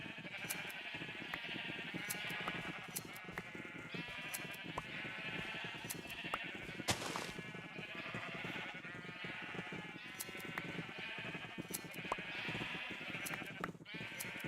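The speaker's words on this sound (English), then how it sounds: "There's a few too many sheep in this pen." Many sheep bleating in a crowded pen in a video game during shearing, a dense overlapping chorus of repeated bleats throughout, steady and fairly close.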